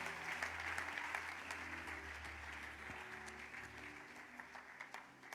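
Church congregation applauding at a fairly low level, a continuous patter of many hands clapping with voices and a low hum underneath, fading slightly toward the end.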